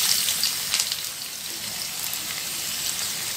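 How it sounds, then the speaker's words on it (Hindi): Onions sizzle in three tablespoons of hot oil in a pan, a steady close crackling hiss with small popping spatters and no talking, while cooking an egg and fenugreek salan. "इसके लिए मैं एक पैन रख दिया और 3 टेबल स्पून ऑयल डाली। अब इसमें डालेंगे प्याज"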